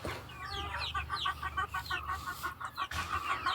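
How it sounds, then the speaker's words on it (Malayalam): Several native, Sonali, Gramasree and Aseel chickens cluck in quick, repeated bursts close by, a busy overlapping chatter of hens with a sharper call near the end. "ഇതൊക്കെയാണ് കോഴികൾ."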